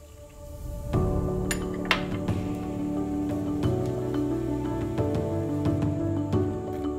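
Soda water pours steadily into a glass over ice and pineapple mixture, with crackling bubbles, gurgles and occasional clinks throughout.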